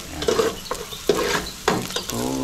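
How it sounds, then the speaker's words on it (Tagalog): Food sizzles and is stirred in a hot pan during home cooking, with a run of scraping strokes over a steady frying hiss, close and fairly loud. "Habang nagigisa ako dito"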